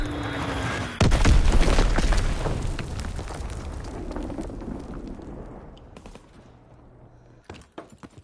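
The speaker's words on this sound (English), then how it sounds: "Popping Fritz X bomb" A large blast from a Fritz X guided bomb in a Call of Duty match erupts suddenly at full force, followed by a long rumbling roar and scattered gunfire that gradually fade.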